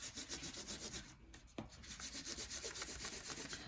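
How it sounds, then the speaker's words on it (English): A crayon is rubbed sideways across paper in steady back-and-forth strokes, making a soft, rhythmic scratchy rasp with a short pause midway. The sound is close and faint. "when you're rubbing, you're going to put your crayon sideways"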